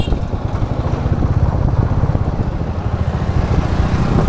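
A tractor hauling a chopper engine runs steadily and loudly nearby, its low continuous throbbing chug dominating the soundscape on a rural road near a lake in Maharashtra.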